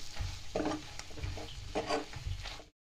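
Ginger garlic paste and spices for methi maaz, a Kashmiri mutton dish, are stirred in a hot pan, giving a soft sizzle with several rhythmic scraping strokes before a sudden stop.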